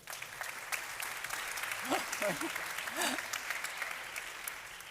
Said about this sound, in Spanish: ¿qué os parece si le damos un primer aplauso a todos ellos?